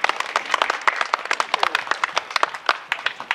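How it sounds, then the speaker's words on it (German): An audience at an outdoor maypole-raising celebration claps warmly for the kitchen staff, a dense, lively round of applause from a moderately sized crowd. "Und herzlichen Applaus für unsere Küche."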